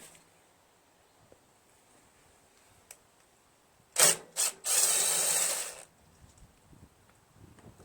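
A 5/16 socket ratchet works on an old Briggs & Stratton 8HP carburetor from a leaf blower, giving two short close clicks and then a steady buzzing ratchet run of about a second, alone in a quiet room.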